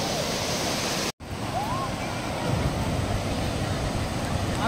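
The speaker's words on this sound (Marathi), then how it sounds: "स्वच्छ पाणी आहे, जरा घाण नाही आहे, सुंदर बीच आहे" Waves wash onto a clean beach on the Konkan coast in a continuous, fairly loud surf roar, broken only by a brief dropout near the start.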